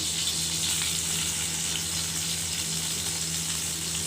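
Garlic frying in hot oil in a frying pan, a steady, dense sizzle and crackle that stays even throughout, close and fairly loud, with no talking.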